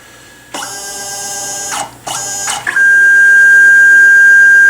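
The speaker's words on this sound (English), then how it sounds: "Sorry for the squeal. I haven't tuned in that servo yet." A steady high-pitched squeal from an untuned servo motor on a machining setup rises from about halfway through, after bursts of broadband machine noise, and holds loud and continuous to the end.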